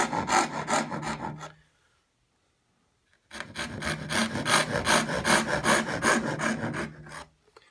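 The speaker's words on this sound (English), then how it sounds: "We're cutting on the outside of the line, basically using the teeth to just barely touch the line." Saw cutting wood along a marked line while making drawers, the workpiece held in a vise: steady, close rasping back-and-forth strokes, stopping for about two seconds of silence, then resuming in a long even run.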